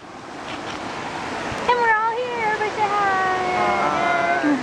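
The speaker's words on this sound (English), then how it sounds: "Look, another waterfall." Steady rushing roar of Upper Potato Falls waterfall, a broad continuous wash of falling water, with a voice talking over it in the second half.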